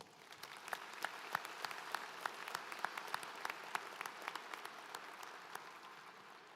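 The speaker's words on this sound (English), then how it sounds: "Please give Ms. Conway Pinnick a round of applause." A commencement audience applauds a retiring professor, a steady wash of clapping with distinct sharp claps standing out, moderately distant and fairly quiet, with no talk over it.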